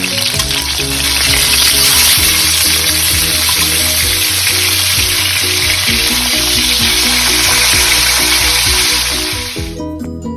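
Chicken thighs seasoned with Chinese five spice sizzle loudly as they sear in hot oil in a pan, a steady crackling hiss with music playing underneath, cutting off near the end.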